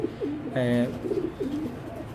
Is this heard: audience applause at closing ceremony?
no